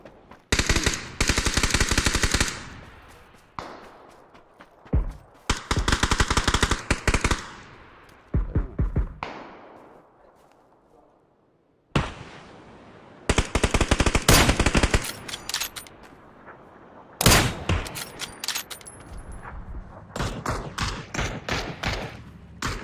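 Long bursts of rapid automatic gunfire in the video game PUBG, loud and close, broken by brief pauses and scattered single shots, with no talking.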